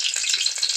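Dried chilies frying in hot oil in a village home kitchen, a steady bright crackling sizzle, close and continuous through a brief moment.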